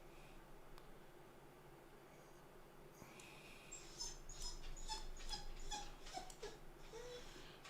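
A dog whimpers in a room, a series of thin high whines and squeaks bunched in the latter half, fairly faint over a steady low background hum.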